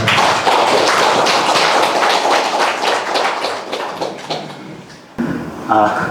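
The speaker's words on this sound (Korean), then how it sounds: "큰 박수로 맞이해주시죠" Dense, steady clapping from a lecture audience welcoming a professor to a Confucian culture class, loud and continuous for about five seconds before fading, then cut off as a voice begins.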